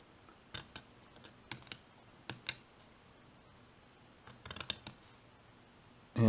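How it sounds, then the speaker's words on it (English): Metal scribe digging into the plastic door edge molding of an MPC 1/25 scale 1970 Chevrolet fire truck model, making faint, sharp scratchy ticks in small clusters against near silence. "just take my scribe here and dig it a little bit deeper"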